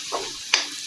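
Potatoes frying in a covered pan for an aloo palak methi sabji, a steady close sizzle with a few brief scraping or stirring bursts.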